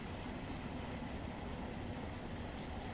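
Burlington Northern mixed freight train with two locomotives and tank cars in Run 8 Train Simulator, a steady rumbling roll of wheels on rails that stays even throughout, with no speech.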